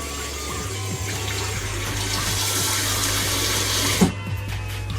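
Water runs steadily from a kitchen sink tap while beans on toast are being cooked, a continuous rushing hiss with a low hum underneath and a brief knock near the end.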